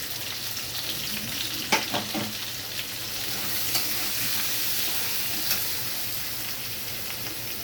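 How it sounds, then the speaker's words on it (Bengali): Ground spices stirred into hot oil with frying taro pieces, a continuous close sizzle with a few spatula scrapes and taps early on, no voices. "এবার আমি এতে দিয়ে দিচ্ছি গুঁড়ো মশলা।"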